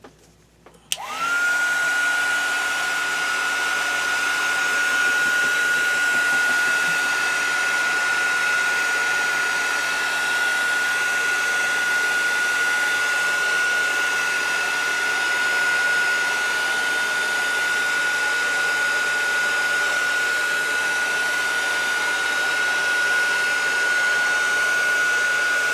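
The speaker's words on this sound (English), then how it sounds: "I'm going to pop a dryer on that for just a minute." A hair dryer switches on after a brief quiet moment and then runs steadily to dry a watercolor painting of lilies, a loud close whir with a constant high whine and no talking.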